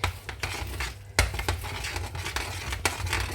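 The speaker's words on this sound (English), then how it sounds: "Let's mix that in." A spoon stirs beef mince pie filling in a pot: close, repeated scraping and clinking knocks against the pan with soft wet squelching between them, and no talk.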